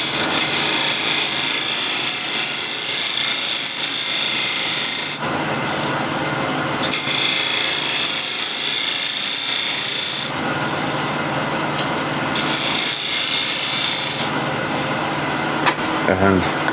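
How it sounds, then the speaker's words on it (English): A shear scraper shapes a wood offcut on a lathe, giving loud continuous hissing scraping in several passes with short pauses between them. "using shear scraper to shape the bottom"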